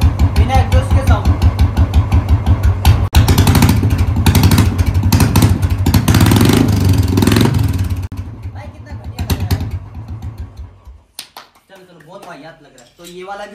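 A Bullet motorcycle with its silencer removed runs close by, its loud, rapid thumping exhaust pulses revving and then dropping off. The engine cuts out near the end, and a voice speaks briefly afterward.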